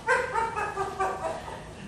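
A Mountie's dog barks in a steady, moderately loud string of yaps and whimpery yips, fairly close, with no voices over it.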